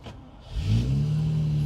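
A 1974 Jaguar E-Type Series 3 V12 roadster cold-starts with the choke pulled out. A brief starter crank leads quickly into the engine catching and rising into a loud, steady rumble.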